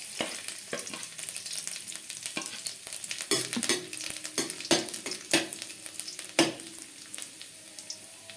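Chopped garlic frying in oil with dried chilli and black cumin, a steady close sizzle broken by repeated scraping stir strokes of a spatula against the pan, with no talking.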